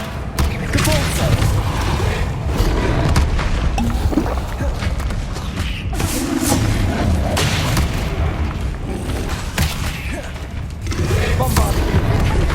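Bombarda spell blasts in Hogwarts Legacy combat, a dense run of booming impacts and crackling bursts throughout, with spell incantations shouted between them.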